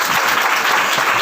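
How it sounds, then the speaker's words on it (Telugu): A church congregation claps together during Sunday worship, a dense, loud, continuous burst of hand clapping that fills the space with no voices over it. "ఎక్కడ చప్పట్లో కొట్టండి ఒకసారి."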